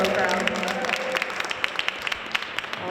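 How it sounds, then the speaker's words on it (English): An audience applauding business accelerator graduates at a ceremony produces a moderate, scattered round of clapping with individual sharp claps standing out, somewhat distant and mixed with crowd noise. "another just big round of applause for all the graduates of this fourth cohort"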